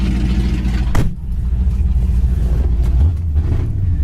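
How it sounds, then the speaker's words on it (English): A 1981 Pontiac Trans Am's engine revs hard through straight-pipe exhaust with a sharp burst of raw exhaust, then settles into a deep, throaty idle rumble close by. "I know the exhaust is on the loud order with the straight pipes"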